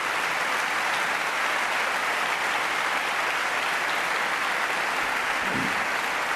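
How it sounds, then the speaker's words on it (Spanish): Sustained applause from an audience at a political rally in Tarragona fills the space evenly, a dense steady wash of many hands clapping throughout, with one brief low thump near the end. "Vaya para él este primer aplauso del mitin"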